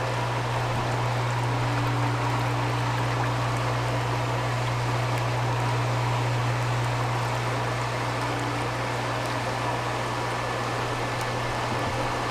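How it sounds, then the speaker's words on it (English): Cal Spas hot tub jets running, a constant low hum with rushing, bubbling water noise, steady throughout and fairly close, with no talk. "can hear the jets running."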